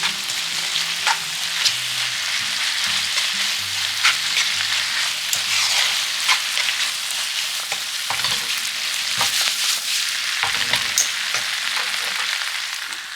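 Udon noodles and vegetables fry in a pan and are tossed with sauce, giving a loud steady sizzle broken by scraping, stirring knocks.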